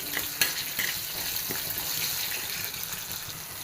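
Shallots and garlic cooking in a pan for a roasted-coconut sambar, a constant bright hiss of frying with a few scraping stirs and light knocks, close and fairly loud, no voices.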